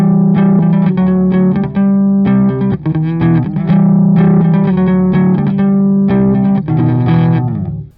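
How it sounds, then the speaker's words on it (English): A distorted bass guitar through a Hiwatt amp model plays a chunky riff of repeated sustained notes, loud and close with a gritty overdriven tone. "Never used a Hiwatt with this combination of bass and amp"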